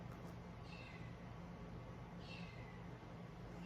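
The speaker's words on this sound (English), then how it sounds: "we got a new kitten and I keep hearing him cry" A new kitten meows twice indoors, two short faint cries spaced about two seconds apart over a steady low background hum.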